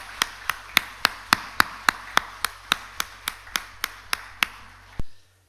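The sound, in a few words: congregation clapping in church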